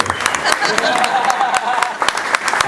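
Applause for a speaker at a wedding toast, a room of guests clapping steadily with sharp overlapping claps, close and fairly loud.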